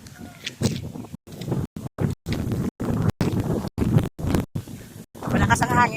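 Strong wind buffets the microphone during an outdoor morning walk and jog, loud broadband rumbling in repeated gusts with frequent gaps, while people talk throughout.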